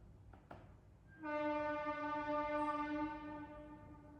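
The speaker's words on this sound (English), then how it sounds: "So train is coming." A train sounds a long, steady horn. The sustained tonal blast begins after a couple of faint knocks and holds evenly for about three seconds, fairly faint and distant, with no talk.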